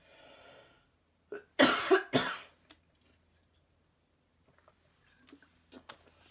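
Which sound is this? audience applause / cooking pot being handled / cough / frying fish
cough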